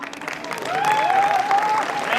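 An audience at a motivational success speech event claps steadily, a dense, close wash of applause that builds and holds, with a sustained voice-like tone running over it.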